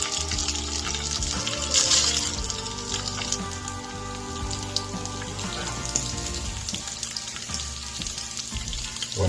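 A tortilla sizzles face down in an oiled pan while a breakfast taco is cooked, giving a steady, close crackling hiss that runs the whole time with no talk over it.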